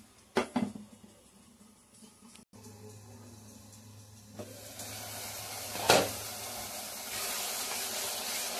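Spice paste for pav bhaji sizzles in a pan, opening with a few sharp clatters of the pan before a soft hiss builds and holds, with one brief louder burst partway through.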